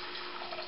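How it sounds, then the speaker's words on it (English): Water is poured into a cooking pot heating on high for a tomato and basil spelt dish, a brief, steady, close rushing splash lasting under a second. "I'm going to throw some water in"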